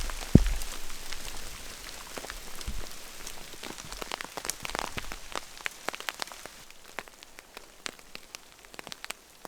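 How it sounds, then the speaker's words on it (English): Hailstones patter and tick on a tarp and the cedar branches above, with a steady dense hiss and scattered sharp individual hits that thin out toward the end, heard during winter camping in a storm. "It is hail."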